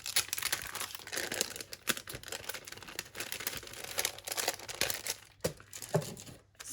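A paper photograph is crumpled and rubbed roughly by hand during junk-journal crafting, making a close, continuous crinkling and scrunching that rises and falls in small bursts at low volume.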